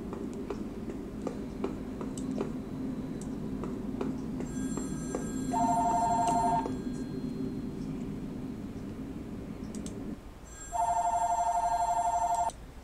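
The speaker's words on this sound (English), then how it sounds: "I got a phone call and I had to take it" A telephone rings in two long bursts of a steady electronic trill with a pause between them. The ringing sits over low background hum, and no one speaks.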